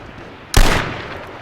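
A single sharp, loud rifle shot cracks out in the H1Z1 battle royale game, followed by a short echoing decay. Before the shot there is only a quiet background, with no talking.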